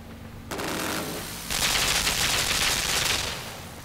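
A machine gun in the video game Limbo fires in dense continuous bursts, one short volley followed by a longer, louder sustained stream of rapid shots that tapers off.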